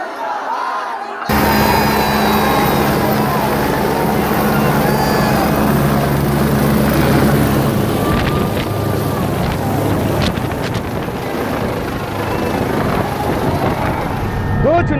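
Helicopter cabin noise in flight between two election rallies, a dense, steady roar with a low droning hum that runs unbroken after a brief quiet start, with faint voices underneath.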